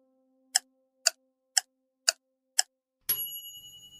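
Bicycle bell or bicycle sound effect in a vehicle guessing game: five evenly spaced crisp ticks about half a second apart, then a single bright bell ding that rings out and decays, with no talking.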